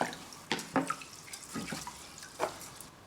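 Round-grain rice rinsed under cold running water, with a few close splashing bursts of water over the grains and a steady trickle between them. No one speaks.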